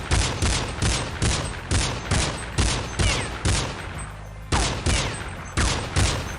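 Rapid bursts of gunfire in Counter-Strike 1.6, about a dozen sharp loud shots in a steady rhythm with a short pause partway through.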